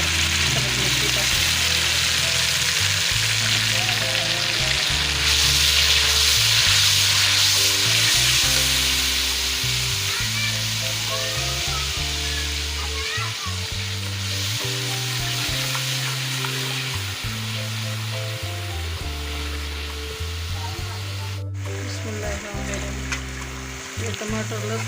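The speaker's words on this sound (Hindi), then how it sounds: "ये टमाटर लहसुन अदरक प्याज सब्ज़ मिर्ची सब चीज़ें फ्राई हो गई हैं।" A paste of tomato, onion, green chilli, garlic and ginger fries in a pot for chicken pulao, giving a steady loud sizzle with repeated stirring scrapes throughout.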